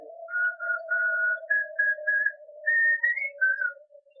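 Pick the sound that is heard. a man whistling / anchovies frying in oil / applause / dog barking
a man whistling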